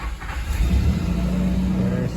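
An old car engine with a lifter tick starts up from a cold, steering-unlocked, neutral position, cranking briefly then catching into a loud, steady close idle rumble.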